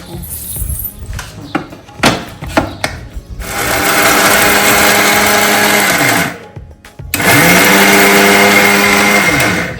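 A mixer grinder grinds peanuts, fennel, sesame, gathiya and spices, starting with a few short rattling pulses, then running in two long loud whirring bursts separated by a brief pause.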